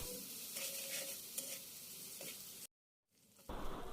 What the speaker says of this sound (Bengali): এখন সব একসাথে ভালো করে ভেজে নেব।